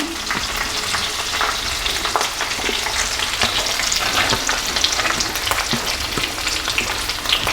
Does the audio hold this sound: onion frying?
yes